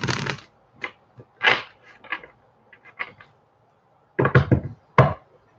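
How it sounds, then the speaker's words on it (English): Tarot cards are shuffled by hand in a series of crisp riffling bursts and soft taps, with short pauses between the rustles and no speech. "I'm going to shuffle this one more time for Aquarius"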